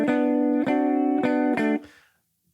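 Palm-muted guitar strumming in a trotting gospel quartet drive feel, the right hand deadening the strings on each downstroke; a few steady chord hits, close and clear, then the sound dies away into near silence.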